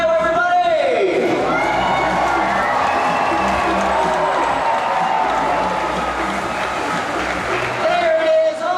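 A stadium audience at a SeaWorld orca show erupts in loud cheering, whoops and applause after a killer whale breaches, a dense roar of many voices that swells and holds before fading.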